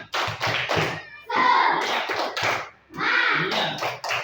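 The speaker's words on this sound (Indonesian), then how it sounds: "Tepuk semangat." Schoolchildren in a classroom do a rhythmic spirit-clapping routine, the claps falling in quick bursts and patterned groups that are close and fairly loud, with some chanting voices mixed in.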